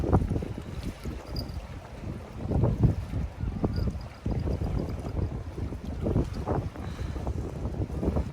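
Heavy wind buffets a small fishing boat at sea, a rough, gusty rumble with irregular thumps of water and hull, loud and continuous throughout with no talking.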